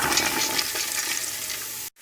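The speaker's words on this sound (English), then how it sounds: "I am going to put in my lentils and chickpeas" Lentils and chickpeas poured into a pan of sautéing onions, bell pepper and garlic, a loud close rush of hissing and sizzling that holds steady, then cuts off abruptly near the end.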